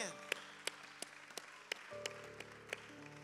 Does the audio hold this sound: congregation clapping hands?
yes